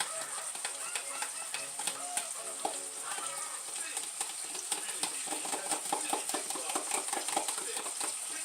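Hamburger meat fries in a pan for keto sloppy joes, with a steady crackling sizzle and bursts of spattering heard close and without pause.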